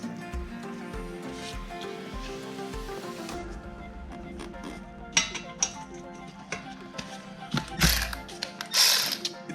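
A ratchet with a 12 mm socket works the head bolts of a Predator 212 small engine, giving scattered metallic clicks and clanks with a few sharper knocks later on, close and moderately loud, with no talking.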